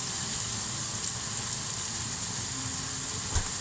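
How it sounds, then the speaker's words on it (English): Chilli prawns sizzle in a hot pan, a faint, even hiss that holds steady throughout with a couple of soft pops. "Just put the prawns back in. There we go. Nice and sizzle."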